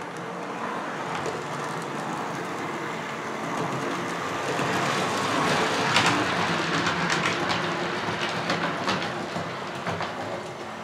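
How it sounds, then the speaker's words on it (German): A Piko class 612 model railway train runs on a home layout with a continuous rumbling, rattling roll of wheels on track, steady throughout with occasional clicks. "Lass mal den Zug hier noch ein bisschen fahren."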